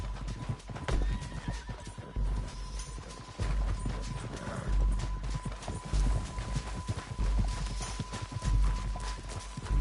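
Horse hooves clip-clop at a brisk gallop in Red Dead Redemption 2, a rapid rhythmic pounding close by, with a horse whinnying along the way.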